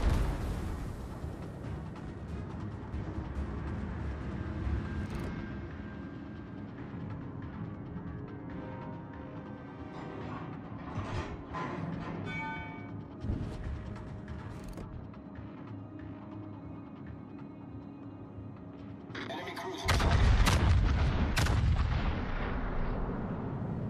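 Battleship artillery fire from the Yamato in World of Warships: deep booming salvos and scattered blasts over a constant low engine rumble, building to a heavy, loud barrage near the end.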